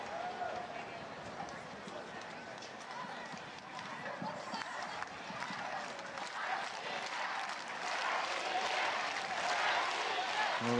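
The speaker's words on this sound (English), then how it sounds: "the crowd getting behind their woman, but need a little bit of silence for the start of this race" A stadium crowd at the 2013 Universiade roars before the women's 200m semifinal, cheering and applauding in a steady wash that swells toward the end, with a commentator talking over it.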